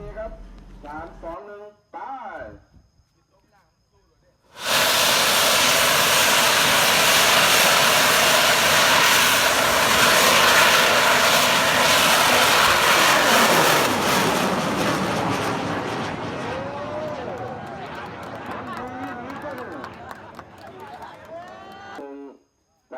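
A homemade bamboo rocket launches at a festival in Phanom Phrai, Thailand: a loud roaring rush erupts after a few seconds and holds steady, slowly fading as it recedes, with crowd voices and chatter before and beneath it.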